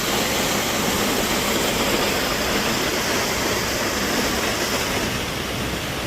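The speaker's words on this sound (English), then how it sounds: "One more look at the falls." Waterfall in the mountains near Rifle, Colorado, roaring steadily from start to finish as a dense, loud, unbroken wash of falling water.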